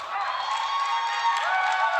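A live crowd at a wrestling match in the TSW studio, a hangar-like hall, cheers steadily throughout, a dense, sustained roar of many voices with overlapping shouts close around.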